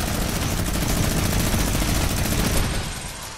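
Sustained, dense automatic gunfire from a minigun in a video game rattles continuously at close range and loud volume, easing off slightly near the end.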